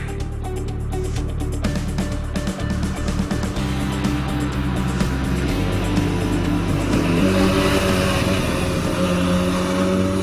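A Benelli BN 302 motorcycle engine revs up past 6000 rpm, a loud, close whine rising and climbing in pitch through the gears over a steady roar.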